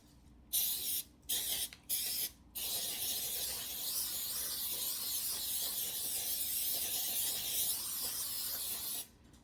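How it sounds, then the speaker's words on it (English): Several short bursts of aerosol cooking spray hiss close by onto a new donut baking pan, then one long continuous spray lasting several seconds. "I always overspray the first time I use my pan"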